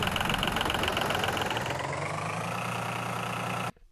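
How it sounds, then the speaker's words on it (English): Layered sound design of a truck engine idling at low RPM, a steady dense rumble with a rhythmic throb that holds loud and constant for nearly four seconds before cutting off abruptly. "there we start to get the beginning of the sound of the truck idling"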